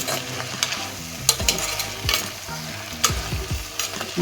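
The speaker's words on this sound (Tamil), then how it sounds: "நல்லா நம்ம அடியிலருந்து கலக்கி விட்டு வதங்கி அளவு கம்மியாயிடும்" Fenugreek greens with onion and tomato sizzle in a pan while a spoon stirs and scrapes the bottom, producing soft frying crackle and repeated sharp metal clinks, close and without speech.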